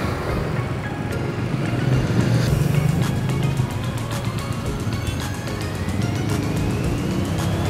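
A car on a rough road heard from a Honda CB 150X motorcycle, a loud continuous engine and road rumble with a rising whine, passing close without talk.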